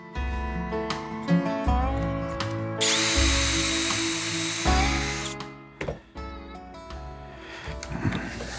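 A power drill bores holes into a wooden board through a doweling jig, its motor whining steadily in close, loud bursts with brief pauses between holes.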